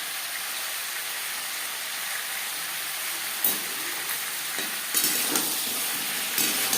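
Spices stirred into vegetables sizzling in a pan for Bengali spinach ghonto, a continuous hissing fry broken by a few sharp scrapes of the spoon, no talk.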